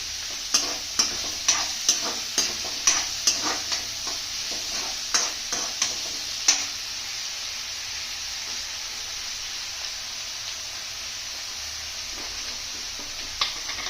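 Dried chilies fry in hot oil, a steady loud sizzle and hiss with a run of rhythmic stirring scrapes and clinks early on, then the sizzling carries on alone with only occasional knocks.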